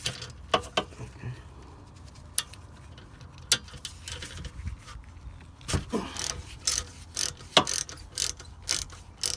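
Ratchet wrench with a 7mm socket working the rear brake caliper bolts on a Mercedes-Benz S550, giving rapid bursts of clicking pawl ticks with short pauses between strokes, close and fairly quiet in a garage setting.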